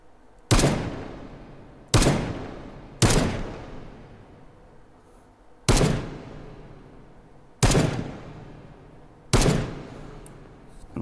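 Six loud, evenly spaced gunshots from the VR game Hot Dogs, Horseshoes & Hand Grenades ring out one at a time, each sharp crack trailing off in a short decaying echo.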